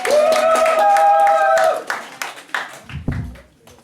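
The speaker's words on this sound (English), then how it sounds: "Can we give him a big round of applause, please?" Applause for a reader at a spoken word event. Scattered, uneven claps rise as a sustained tone fades, then thin out to a few sharp individual claps before a voice begins.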